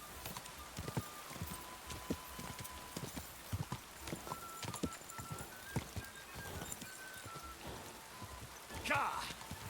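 Rhythmic hoof clip-clops of a horse galloping in the video game Kingdom Come: Deliverance II, steady and quick, with scattered tones and a faint burst of noise near the end.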